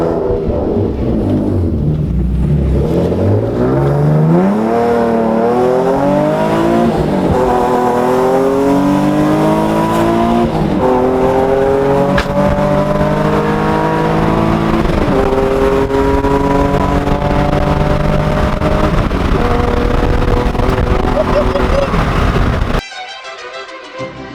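A bagged Nissan Nismo's engine running close and loud, climbing through repeated revving sweeps that rise in pitch, then cutting off abruptly near the end.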